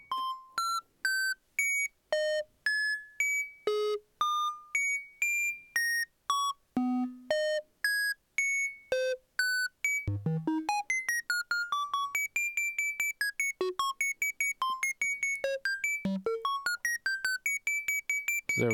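Modular synthesizer patch with a random gate fed back into an LFO reset, producing a loud, steady run of pitched electronic blips hopping between notes, speeding into a denser, faster stutter of short chirps in the second half, with no voices.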